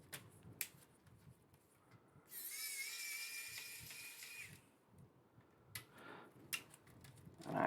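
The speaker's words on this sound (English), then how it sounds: "I do have a little bit of a power screwdriver here." Power screwdriver removing bottom screws from a PS2 console (SCPH-77001), a faint high whirring buzz lasting about two seconds, followed by soft clicks and handling sounds in a quiet room.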